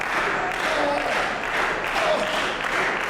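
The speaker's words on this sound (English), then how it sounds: "The crowd trying to cheer Twan back to his feet." Indie wrestling event crowd cheering and clapping to rally a downed wrestler, a dense wash of applause and shouts swelling and easing over a few seconds, with a commentator's voice faintly beneath.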